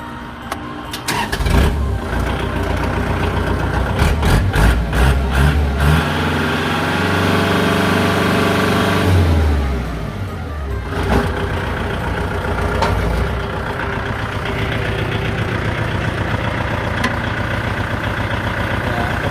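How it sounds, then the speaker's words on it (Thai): A Kubota L5018 diesel tractor engine cranks, catches with a few sputters, then settles into a loud, steady close running rumble that dips and evens out. "เดี๋ยวเราลองมาสตาร์ทเครื่องยนต์ดูนะครับ"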